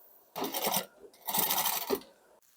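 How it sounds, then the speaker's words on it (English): A sewing machine top stitches along the folded edge of a fabric binding in two short bursts of rapid needle chatter, separated by a brief pause, close and moderately loud. "we're going to stitch down the long edge just on the very edge of this fold here, and it's just going to be top stitched down to the other end"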